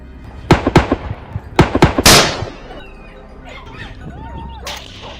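Gunshots fired at a wild boar during a hunt on a hillside: several sharp, loud bangs in quick succession, the heaviest near the end with a long ringing decay, followed by quiet outdoor ambience.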